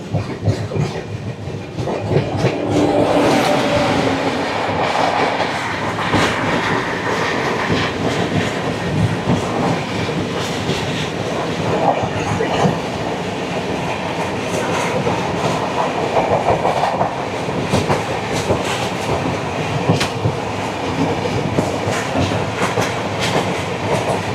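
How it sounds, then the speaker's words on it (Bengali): Kaziranga Express running on rails from Kolkata toward Guwahati, a steady loud rumble of wheels with rhythmic clickety-clack over rail joints, continuous and close, with no talking. "আমাদের ট্রেন প্রায় পৌঁছে গিয়েছে গুরাব স্টেশনের কাছে"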